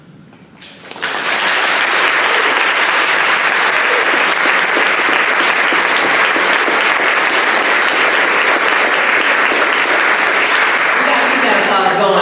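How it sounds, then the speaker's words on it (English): An audience applauds at a live gathering, a brief quiet lead-in giving way to loud, sustained, dense clapping with a few cheers, continuing evenly throughout. "We gotta keep that applause going a little bit more."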